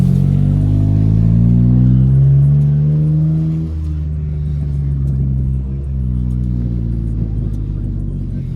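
Car engine rumbling and revving as it drives on a wet road in the rain, a loud, close, steady drone with rising and falling pitch, running without talk.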